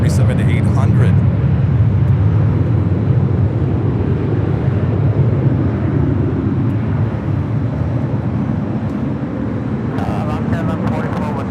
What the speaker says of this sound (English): Next arrival here on the north side is Alaska Airlines flight 1144 coming in from Seattle, a 737-800.